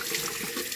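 Tap water runs steadily while wetting the hair of a 70-year-old vintage Ideal Toni doll, a close, continuous splashing flow with no talk.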